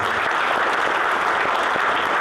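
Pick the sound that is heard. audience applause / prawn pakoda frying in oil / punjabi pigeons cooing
audience applause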